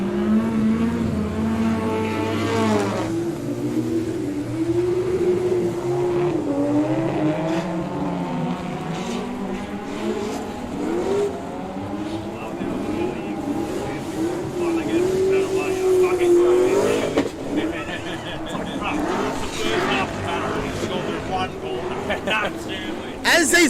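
Drift cars roar past at a Superdrift round, engines revving and rising and falling in pitch as they pass, with a commentator talking over the noise throughout.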